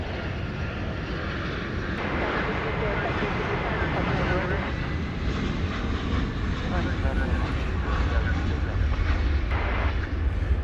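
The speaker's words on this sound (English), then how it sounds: "It's an Airbus A319." An American Airlines Airbus A319 at DFW Airport at night, its engines giving a steady, loud broadband roar that holds for the whole stretch without a break.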